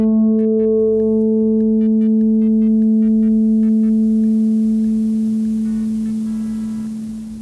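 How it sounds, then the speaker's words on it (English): An electric violin holds one sustained note through a compressor pedal, a steady bright tone that stays level and loud while faint background hiss creeps in, then slowly fades at the end. "you can hear how the compressor is actually uplifting that sound and keeping it loud"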